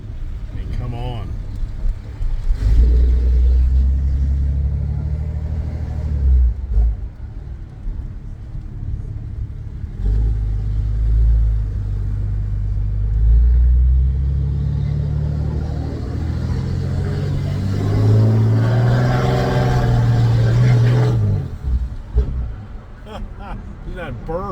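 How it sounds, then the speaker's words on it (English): Diesel exhaust from a black Ram Mega Cab pickup truck rumbles deeply at idle and swells as the engine is revved, heard up close with someone talking over it. "Listen to the diesel exhaust on the engine."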